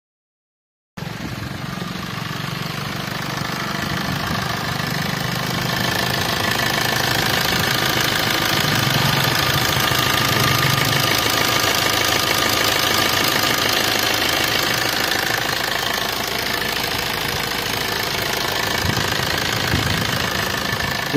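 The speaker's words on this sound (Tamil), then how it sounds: "இந்த வண்டியுடைய இன்ஜின் மற்றும் அதோடைய சவுண்ட்லாம் பாருங்க." A used 2012 Maruti Suzuki Ritz engine with 81,000 km idles steadily for about twenty seconds, a continuous low rumble with a faint knocking texture, close by and with no voices.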